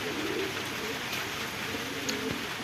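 Racing pigeons coo steadily in rainy weather as they return home, a soft, continuous murmur of calls with a faint chirp or two over a constant background hiss.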